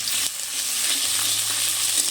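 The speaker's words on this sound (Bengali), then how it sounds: "আদা রসুনটা দিয়ে একটু নেড়ে চেড়ে নিচ্ছি।" Ginger-garlic paste sizzles with lightly fried onions in a pan, a close, steady hiss of frying with faint stirring scrapes throughout.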